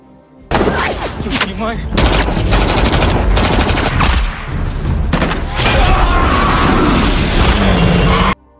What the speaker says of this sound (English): He fired his gun several times at Topan and Django